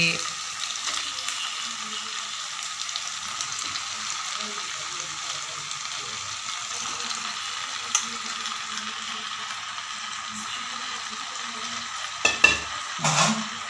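Ground chicken paste fries in oil with sautéed tomato and onion, making a steady low sizzle with faint stirring, then a few louder scrapes and knocks toward the end; no one speaks.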